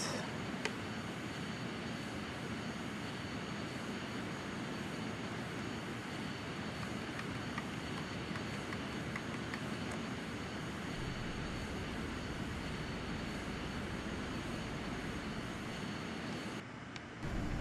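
A Rockwell X-31 jet in Flight Simulator X roars with a steady, dense engine drone and a high whine, loud and unbroken throughout. It cuts off abruptly right at the end.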